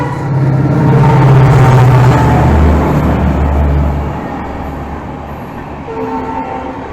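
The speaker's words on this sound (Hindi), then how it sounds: "और ये काठगोदाम शताब्दी है, हमको ओवरटेक मारा है।" The Kathgodam Shatabdi express overtakes on an adjacent track in India, a loud roaring rush of passing coaches with a sustained horn tone that fades as the train pulls ahead.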